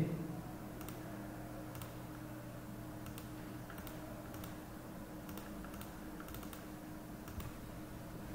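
Fingers tap out a web address on a computer keyboard in a steady run of light key clicks over a low background hum, moderately close and fairly quiet.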